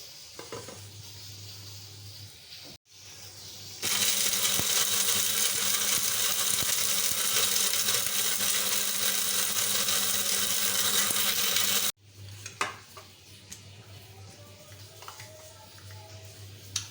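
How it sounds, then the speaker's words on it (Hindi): Roasted garam masala spices are ground in a kitchen grinder, giving a loud, harsh whirring roar that runs for about eight seconds. Quieter kitchen clatter comes before and after it. "इसको भी उतार लेते हैं और अब इनको पीस के लाती हूँ। गरम मसाला पीसना शुरू करें।"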